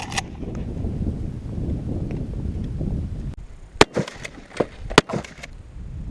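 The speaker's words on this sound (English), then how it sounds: "Alright, it's watermelon shooting time." Shotguns fire at watermelons outdoors, several sharp, loud blasts arriving in quick succession after a stretch of steady wind and background rumble.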